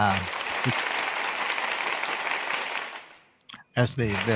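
Recorded crowd applause played back on a radio show, a dense roaring wash of clapping and cheers that holds steady for about three seconds, then fades out and gives way to someone speaking.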